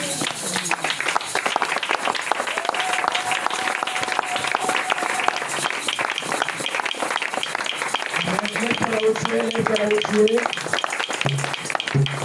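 A church congregation in a worship service rises to applaud and acclaim, with steady dense clapping and crowd noise running throughout, joined by talking and a sustained sung or shouted tone over it.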